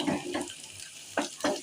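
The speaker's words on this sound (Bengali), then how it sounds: "হালকা লাল লাল করে ভেজে নেব।" Chopped onion and green chilli frying in a wok, short bursts of sizzling and spatula scraping separated by a quieter pause, close and moderately loud.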